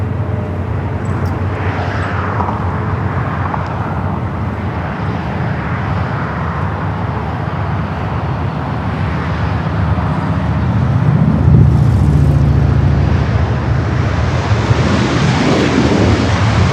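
Airliner departing LAX on runway 24 left, a steady broad jet roar heard from a distance that swells louder toward the end, with faint traffic hum underneath and no talking.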